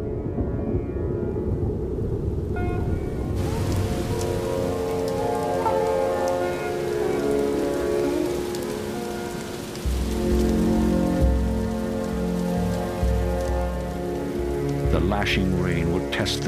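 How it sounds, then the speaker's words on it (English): Heavy monsoon rain pours steadily in the Indian jungle, a dense continuous roar of drops on leaves and surfaces with a deeper rumbling wash joining partway through, loud and close throughout with no voices. "Lashing rain will test the king cobra's nest."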